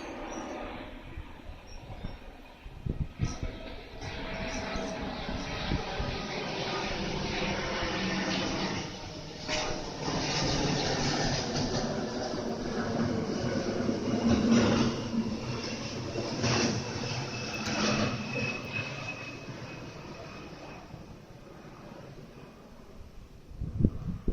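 A broad, rumbling roar of an aircraft passes overhead for a long stretch, swelling and fading, with faint background noises.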